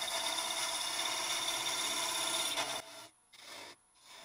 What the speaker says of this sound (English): let's take this down just a little bit with a spindle gouge